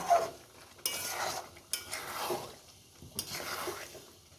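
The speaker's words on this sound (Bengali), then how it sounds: "চিকেনটাকে দিয়ে এবার 15-20 মিনিট ধরে কষিয়ে নেব।" Chicken pieces for chicken kosha are stirred and scraped in a pan of cooked-down spice paste, quiet strokes recurring every second or so with a faint sizzle underneath.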